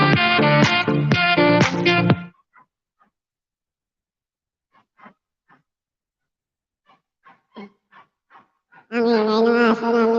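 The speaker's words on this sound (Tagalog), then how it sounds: "Ang ingay ng aso namin dito." A household dog makes loud, drawn-out harmonic barks and whimpers in two bursts at the start and end, with scattered faint yips and sniffles in the quiet gap between.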